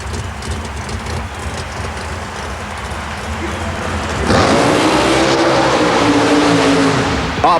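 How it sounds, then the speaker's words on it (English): A nitrous-injected big block Chevrolet engine in a tube chassis Jeep roars through a mud racing run on Long Island in 1991, loud and steady, swelling sharply midway, with an announcer's voice over it. "Nitrous oxide injection in a big block Chevrolet combination in the tube chassis Jeep"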